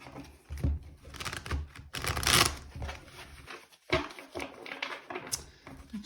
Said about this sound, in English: Let's shuffle one last time.